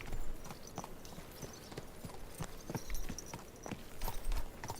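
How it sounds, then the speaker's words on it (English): Horse hooves clip-clop steadily on the ground in the medieval game Kingdom Come Deliverance 2, a regular close rhythm of sharp knocks under faint ambient background noise. "You're a medieval warhorse, Herring."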